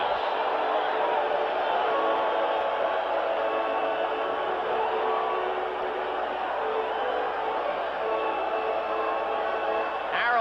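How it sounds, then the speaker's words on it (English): A baseball crowd at a 1984 Chicago White Sox game cheers in a steady distant roar that holds throughout, with a broadcast announcer talking over it. "now even the White Sox fans are cheering for Morris"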